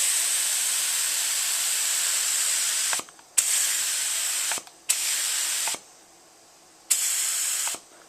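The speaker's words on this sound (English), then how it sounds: "You want to be about 6 to 8 inches away from the piece that you're spraying." Steady hissing aerosol spray coating an AR lower receiver in one long burst, then several shorter bursts separated by brief pauses, close by with no talking.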